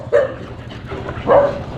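A dog barks twice in quick succession, moderately close, over a low steady background hum, with no one talking.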